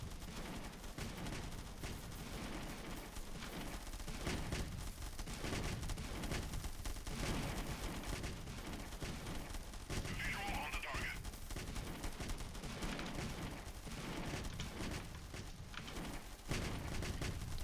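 Dense, continuous automatic gunfire from machine guns in a video game battle rattles on for the whole stretch, loud and unbroken, with bursts layered over one another.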